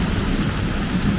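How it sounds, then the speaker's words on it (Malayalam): Heavy rain pours in a loud, dense, continuous roar with no pauses. "സൂപ്പർ മഴയായിരുന്നു ഒന്നും പറയാനില്ല അടിപൊളി മഴ"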